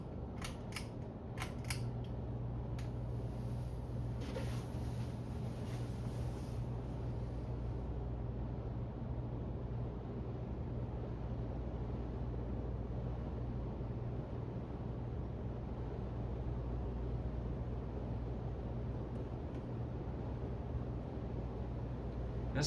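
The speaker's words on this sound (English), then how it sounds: "we're gonna go ahead and crank this fan to high and see what this fan does" A Hampton Bay Huntington 52-inch ceiling fan with a slight wobble runs on high, giving a steady, even whir and low hum with no break, with a few faint clicks near the start.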